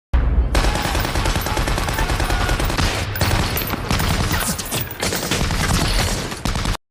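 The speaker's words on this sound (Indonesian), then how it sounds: "Tembakan pun terjadi, dan para prajurit Amerika berhasil menumbangkan banyak musuh." Battle gunfire from the film Saving Private Ryan, a loud, dense barrage of rapid rifle and machine-gun shots crackling continuously for several seconds without letup.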